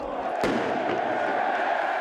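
Thousands of Newcastle United football fans gather and shout in a dense, continuous roar, with a single sharp bang near the start cutting through the steady crowd noise.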